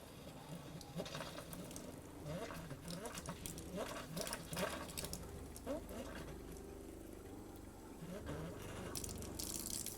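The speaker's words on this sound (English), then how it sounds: "nice stream of antifreeze there" Pink RV antifreeze runs from a faucet in a Winnebago View during winterization, a steady gushing, spattering stream heard up close, continuous across the whole stretch without speech.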